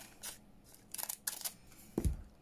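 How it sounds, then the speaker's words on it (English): Scissors cut a piece off a paper belly band in a few quick, crisp snips spread across the moment, close and fairly quiet, followed by a soft thud. "and then I'll cut that bit off"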